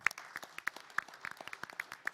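A small audience at a startup pitch event claps after a pitch, producing sparse, irregular individual claps that sound faint and distant over about two seconds.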